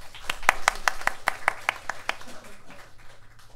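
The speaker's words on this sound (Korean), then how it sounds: "하나님께 우리 영광의 박수 한번 합시다." A church congregation at a Sunday worship service claps together, a burst of about a dozen sharp, fairly regular claps that thins out and fades into a quieter room after about two seconds.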